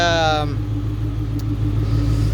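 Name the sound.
supercharged Terminator Cobra car engine running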